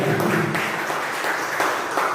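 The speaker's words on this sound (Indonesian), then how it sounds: "Tepuk tangan buat Bapak ya" Steady audience applause at a teachers' training presentation, a dense wash of many hands clapping continuously at moderate volume with no voices over it.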